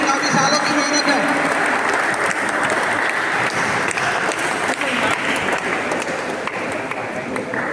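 An audience at a Gujarat State Badminton Championship ceremony applauds loudly and steadily, a dense wash of clapping that holds throughout with crowd murmur beneath.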